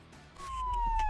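Siren of an ambulance in the mobile driving game City Ambulance Simulator 3D, a single steady wail that swells louder partway through over a low engine rumble, with no talking.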